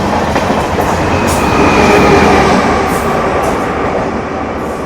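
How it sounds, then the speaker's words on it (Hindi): An Amrit Bharat Express train overtakes a stopped passenger train in wooded country, its steady, loud rail roar and wheel rumble swelling slightly mid-pass and holding throughout with no pause. "इस बार अमृत भारत एक्सप्रेस ओवरटेक करके जा रही है।"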